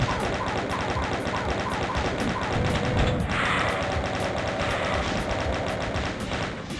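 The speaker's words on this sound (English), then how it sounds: "there's a couple of chain gunners and a Revenant. This is just a trap." Chaingunners fire in the Doom mod Speed of Doom, a rapid, regular stream of gunshots that keeps up loudly throughout with no pause and no talk.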